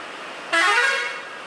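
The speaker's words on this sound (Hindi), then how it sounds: "हाँ, हॉर्न मार ले तू।" A car horn blares in one sustained honk from a vehicle driving through a hailstorm on a flooded, foggy road in Rajasthan, loud and close over steady road and rain noise.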